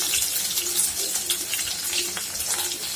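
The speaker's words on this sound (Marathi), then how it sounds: "कांदा असा छान फ्राय झालेला आहे तेलात" Onions frying in hot oil with cumin and curry leaves, a dense, close, continuous sizzle and crackle without pauses or talking.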